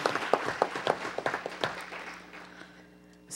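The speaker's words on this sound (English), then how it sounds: "Everyone, please give him a round of applause." Scattered hand clapping from a modest council meeting audience, a few distinct claps in uneven rhythm that thin out and fade after about two seconds, leaving a quiet room.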